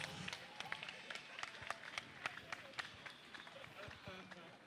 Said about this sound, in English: People of God, give the Lord a round of applause.